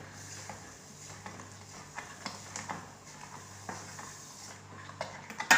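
A spoon stirs milk and sugar in a pot on the stove for kulfi, giving soft, steady scraping and light clinks against the metal over a gentle simmering hiss, quiet and close, with no voices.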